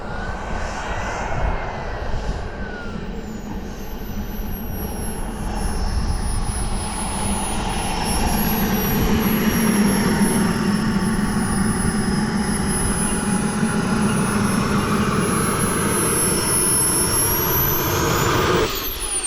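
An AeroFoam L-39 radio-controlled model jet's engine whines steadily at close range, a loud continuous turbine roar with high-pitched tones sweeping up and down as the throttle changes, growing louder midway before holding.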